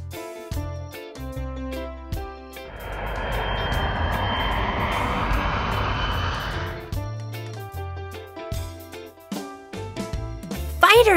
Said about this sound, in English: Fighter jet.